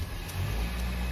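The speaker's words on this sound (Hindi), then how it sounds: "इंजन इतनी स्मूथली चला है कि मज़ा आ गया।" A new Honda Civic engine, started with its push-start button, idles smoothly as a steady, close low rumble with no speech over it.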